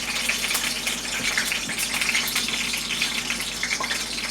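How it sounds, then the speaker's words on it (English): Water hitting hot oil in a frying pan sizzles and pops in a dense, steady crackle with scattered sharper spits, close and continuous throughout. "Starting to make that popping sound a bit more consistently."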